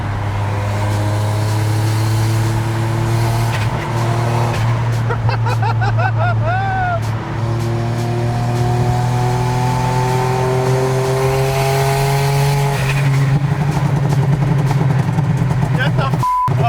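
Turbocharged car engine droning loudly while driving, a steady low hum with rising harmonics as it accelerates and a fluttering turbo whoosh midway, with people talking over it.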